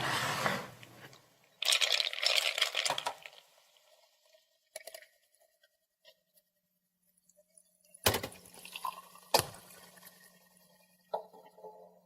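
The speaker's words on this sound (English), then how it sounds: "take these 2 glasses over to the sink and fill them both almost full of water" Water runs from a sink tap into two glasses in short bursts, a splashing gush at first, then quieter trickles and clinks between pauses, fairly faint and close with no talk.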